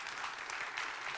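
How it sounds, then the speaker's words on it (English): Brief, faint applause rises from an audience at a conference opening, a short scatter of clapping heard at a distance for about a second. "maybe a quick round of applause for Matthew and his team this morning in Enable Health"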